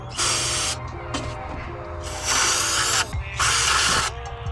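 Brake cleaner hisses from an aerosol can in three long, loud bursts separated by short pauses, a close, sharp spray sound near an engine intake.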